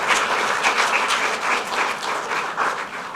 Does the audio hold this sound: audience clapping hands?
yes